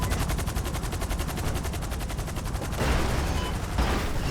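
A vehicle turret machine gun fires in GTA V FiveM, a loud, rapid, continuous burst of evenly spaced shots that briefly shifts and surges near the end. Nothing else is heard over it.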